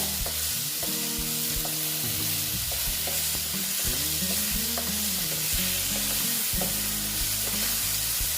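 Pumpkin and eggplant frying in a pan for a mourala fish sour curry, with a steady sizzle and stirring scrapes over a constant tonal background hum.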